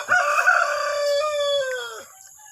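A rooster crows loudly nearby on a farm, one long drawn-out call that tapers off, with a brief cluck at the start.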